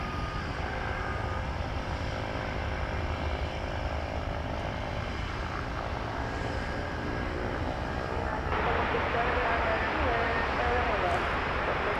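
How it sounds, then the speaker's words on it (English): Cessna Grand Caravan propeller aircraft at DFW Airport, heard as a steady broadband engine and propeller drone that grows louder and brighter partway through, with outdoor background noise. "Oh, that's a Cessna Grand Caravan, though."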